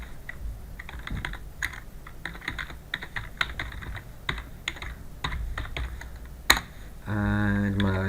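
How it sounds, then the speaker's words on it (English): Rapid typing on a computer keyboard while entering an account username at a Google sign-in page, a steady run of close, crisp key clicks ending in a short burst of louder sound. "here I'm going to type in my account"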